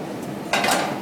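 A spoon scrapes and clinks once against a pan while chicken is stirred through a browned liquid in a pan, a short utensil sound after a quiet lead-in.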